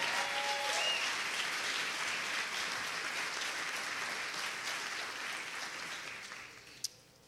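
An audience applauds volunteers with a steady, dense wash of clapping that fades slowly toward the end, closing with one sharp tap.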